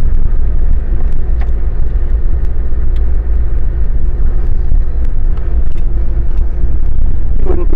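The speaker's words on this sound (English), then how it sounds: "Obviously it's quite an agricultural drive." Inside a 1992 Land Rover Discovery 200tdi on the move, with a loud, steady low diesel drone and road rumble filling the cabin and someone speaking briefly over it.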